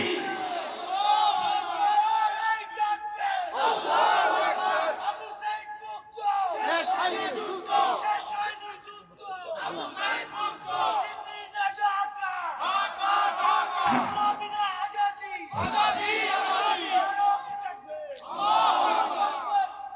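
Large crowd at a religious gathering shouting a takbir response in repeated loud, rhythmic bursts of many voices, each roar rising and falling with short gaps between.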